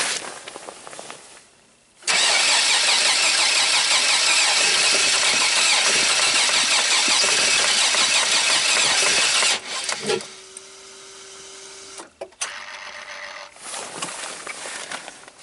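A GM 4.3 V6 in a Chevy Astro with a crank no-start fault cranks steadily for about eight seconds without catching, loud and close, followed by quieter clicks and brief handling noises.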